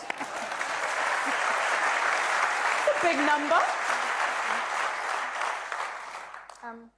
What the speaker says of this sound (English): Something to clap about